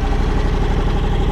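A John Deere X724 lawn tractor fitted with a 54-inch John Deere snow blower runs steadily nearby, a loud continuous engine drone with a churning low rumble and no pauses.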